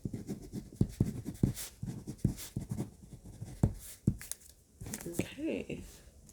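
Pen writing notes on paper, scratchy strokes and taps in quick irregular bursts, close and soft, with a voice talking alongside in places.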